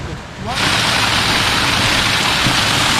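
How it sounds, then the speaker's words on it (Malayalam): Waterfall near a cable car site in Taif: a loud, steady broadband rush of falling water starts abruptly after a half-second and continues unbroken, close and dense. "വെള്ളച്ചാട്ടം"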